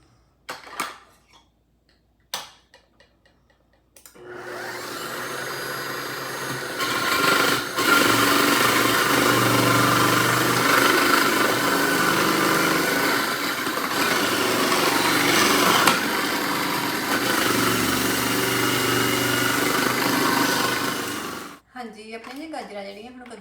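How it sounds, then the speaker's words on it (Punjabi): A food processor grates carrots for gajar barfi, its motor kicking in abruptly and running as a loud, steady high whir for about seventeen seconds before cutting off, with brief talk before and after. "ਹੁਣ ਆਪਾਂ ਇਹਨਾਂ ਨੂੰ ਜਿੱਦਾਂ ਹੈਗਾ ਆ ਕੱਦੂਕਸ ਕਰ ਲੈਣਾ ਮਸ਼ੀਨ ਦੇ ਨਾਲ ਹੀ ਕਰਨੀਆਂ ਹੈਗੀਆਂ"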